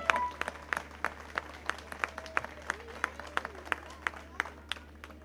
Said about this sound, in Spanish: También les pido un fuerte aplauso para la primera autoridad comunal, la señora alcaldesa Nora Cuevas Contreras.